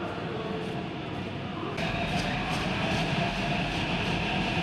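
Hyderabad metro train arriving at a station platform, a steady loud rumble of wheels and motors that swells partway through and continues close by, with no talk.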